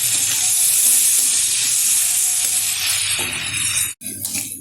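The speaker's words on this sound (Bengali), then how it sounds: "ভালোভাবে উচ্ছেগুলো ভেজে নিচ্ছি, কিন্তু তার আগে দিয়ে দিচ্ছি সামান্য পরিমাণে একটু তেল।" Bitter gourd pieces frying in a generous amount of oil, a steady close hiss and sizzle throughout, briefly cut by a short pause near the end.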